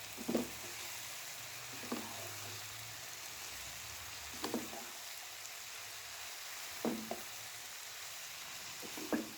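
Cabbage sabzi with crushed carrot frying in a pan, a steady soft sizzle throughout, broken by four brief scraping stirs at intervals, close and quiet.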